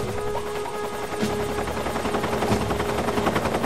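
Helicopter in the video game Metal Gear Solid 3, a steady rotor thrum with engine drone running throughout at moderate loudness, with game background sounds mixed in.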